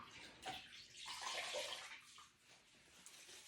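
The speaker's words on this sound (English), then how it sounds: "Okay, then you're going to rinse out your rag. I have a big old bucket of water here." A rag rinsed and wrung in a big bucket of water, with sloshing and splashing bursts that rise and fall close by, fairly quiet and with no talking.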